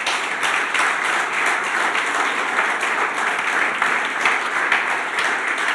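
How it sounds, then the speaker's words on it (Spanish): Steady, enthusiastic applause from a church congregation, a dense wash of many hands clapping continuously at an even, fairly loud level throughout. "¿Por qué no le das un aplauso al Señor?"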